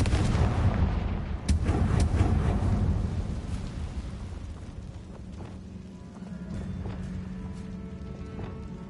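Confringo blasting spell in Hogwarts Legacy, a deep booming explosion near the start that rolls and decays into a long rumbling tail, followed by faint scattered crackles.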